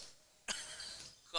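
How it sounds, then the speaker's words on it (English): A single sharp cough from a commentator at a girls' high school basketball tournament game, loud and close, followed a moment later by the start of another cough or throat-clearing. "Cough."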